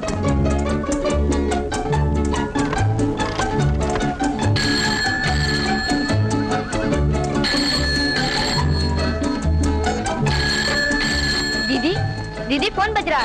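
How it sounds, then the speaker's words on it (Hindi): A telephone rings in a classic Hindi film scene, its bell coming in three repeated bursts over loud, busy background music that runs throughout. "दीदी फोन बज रहा है।"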